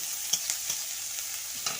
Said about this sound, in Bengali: পেঁয়াজগুলো ভাজা ভাজা হয়ে গেছে আমি ওগুলো নামিয়ে নেব